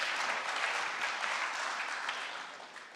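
Audience at a blockchain hackathon closing ceremony applauding a demo team, a full, even burst of clapping that stays steady throughout before easing slightly at the end.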